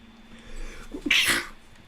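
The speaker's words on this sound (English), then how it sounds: "You might have heard me sneeze." A single sharp sneeze, with a brief inhaling catch just before the explosive burst, close to the microphone against a quiet background.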